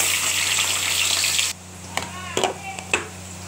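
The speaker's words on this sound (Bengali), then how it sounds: "এবার আলুটা ভেজে নেব।" Potatoes frying in hot oil during rajma cooking: a loud steady sizzle for over a second, then quieter hiss with a few sharp stirring clatters.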